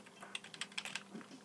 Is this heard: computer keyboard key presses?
yes